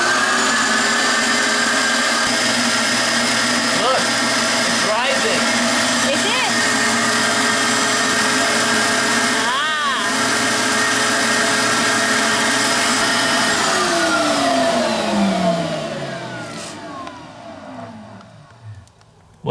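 A $200 Kawasaki dirt bike engine runs badly with a possible vacuum leak. Its harsh, buzzing drone is close and sustained, with small surges in pitch, then it sags and dies away near the end.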